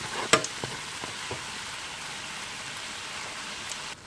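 Steady crackling sizzle of doughnuts frying in hot oil, a close, continuous hiss with a few sharper pops near the start.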